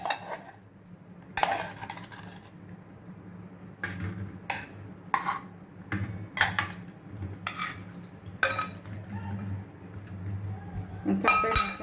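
Pressure-cooked dry dates are scooped onto a plate, making close, repeated clinks and scrapes of a utensil against metal that come in irregular bursts over a faint background hum.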